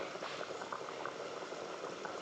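Fish curry with taro comes to a boil in a covered pot, giving a steady, dense bubbling that sounds close and continuous with no voices.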